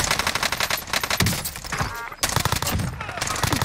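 Rapid bursts of close automatic gunfire in Call of Duty Warzone on Rebirth Island, dense repeated shots with sharp cracks layered over game sound effects.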